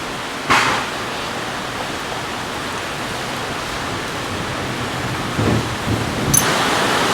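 Thunderstorm with steady heavy rain hissing throughout, a couple of low thunder rumbles rising briefly out of the downpour, no voices.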